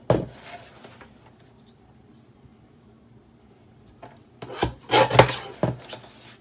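Scraping rasps of a card base being trimmed down on all four sides, a brief scrape at the start, quiet handling, then a louder burst of rough cutting strokes near the end, close and alone.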